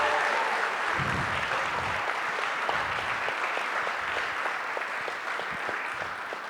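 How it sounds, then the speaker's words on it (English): Wedding reception audience gives a warm round of applause during the speeches, a dense, steady clatter of many hands clapping close by, fading slightly toward the end, with a few voices briefly audible underneath. "So big round of applause."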